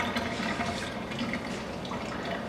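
Water pouring and splashing steadily out of a pot of ramen as it is partly drained, a continuous close rushing flow.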